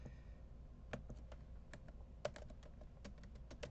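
Someone types a password on a computer keyboard, producing a quiet, close-up string of irregular key clicks with brief pauses between them.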